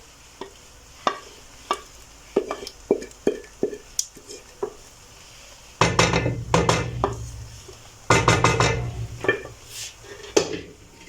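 Pasta in white sauce being stirred in a pan, giving repeated scraping and clinking utensil sounds with soft sizzling bursts, close and fairly loud, with no talking.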